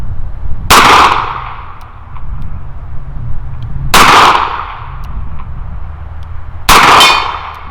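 A S&W 929 revolver fires light loads at a steel silhouette target 50 yards away, three sharp ringing clangs spaced about three seconds apart, each decaying slowly.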